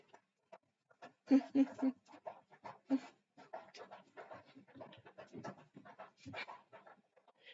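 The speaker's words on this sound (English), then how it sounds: "That's one of my hounds drinking from the water bowl." A hound laps water from a bowl close by in quick rhythmic bursts, while voices talk over and between the lapping.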